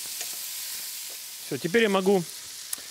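A frying pan of Greek-Cypriot soudzoukakia, seasoned with salt and sugar, gives off a steady, soft sizzling hiss throughout, with a brief spoken word over it midway.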